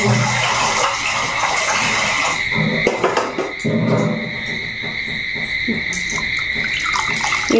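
Water is poured into a pan while potato snacks are cooked, making a steady, loud splashing rush that shifts slightly partway through, with no talk.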